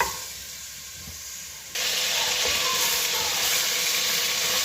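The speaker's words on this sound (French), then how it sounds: "c'est à feu fort, le temps que je fasse dorer un petit peu ma viande" Beef pieces browning in a pan over high heat for Moroccan beef with vegetables (marqa): a steady, loud, close sizzle that jumps abruptly to a stronger, fuller hiss partway through and holds there, with no talking.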